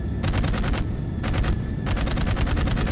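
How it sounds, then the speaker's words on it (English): Jetpack-mounted guns in the video game Dark Void fire in three rapid bursts of automatic gunfire with short gaps between them, loud and close, with no talking. "Pull the R to fire your guns."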